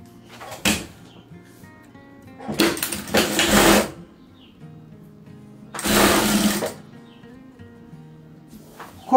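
A sewing machine stitches a double-sided fabric placemat made from scraps, running in three loud, close bursts of rapid whirring with quiet pauses between them.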